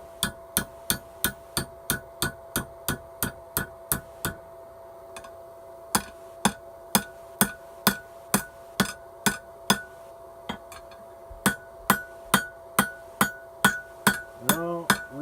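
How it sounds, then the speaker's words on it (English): Hammer blows forge the scroll tip of a pizza cutter over the horn of an anvil, a steady run of sharp ringing strikes, roughly two per second, with a brief pause and then quicker blows near the end. "Cool, I can actually work over the horn of the anvil now."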